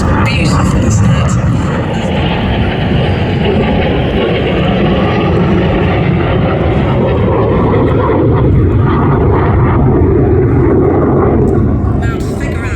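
A fixed-wing aircraft makes a slow pass at the Midlands Air Festival air display, giving a loud, steady engine roar that stays close and constant throughout, with some voices mixed in.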